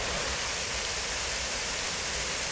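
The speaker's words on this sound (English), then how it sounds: "The first waterfalls appear among the lush green forest and rugged cliffs." Waterfalls pour through a lush green forest among rugged cliffs in northern Spain, a steady broadband rush of falling water, even and unbroken, fairly soft with no voices.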